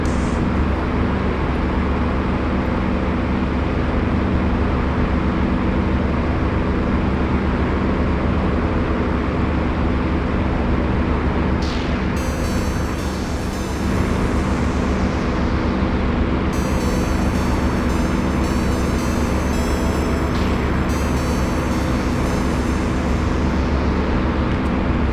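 A propeller aircraft engine holds a steady cruise setting of 2650 RPM at about 14 pounds of boost inside a DCS flight simulator cockpit, giving a loud, continuous drone. It stays even throughout, with a brief high hiss partway through.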